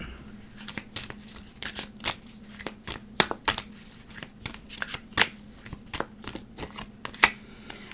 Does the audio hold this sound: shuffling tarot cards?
yes